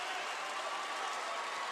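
Crowd ovation at a high school IHSA 4A super-sectional basketball game at CEFCU Arena, a dense steady wash of applause and cheering throughout.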